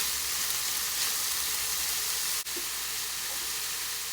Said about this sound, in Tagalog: Igisa lang po natin saglit.